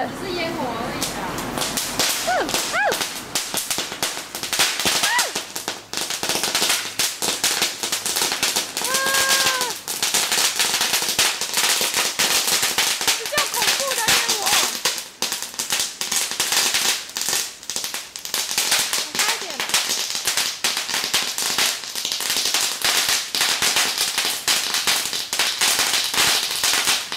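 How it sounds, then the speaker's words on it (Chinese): Firecrackers and fireworks go off at an outdoor Mid-Autumn Festival barbecue in a long, dense barrage of loud, sharp cracks and pops, with occasional whistling rockets and voices shouting underneath. "只是烟火而已啊"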